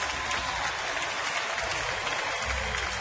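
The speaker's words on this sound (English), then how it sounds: "And he gets the applause." A ballpark crowd at a Cubs–Astros game applauds a departing player as a pinch runner comes in, a broad, distant wash of clapping and cheering that holds steady throughout.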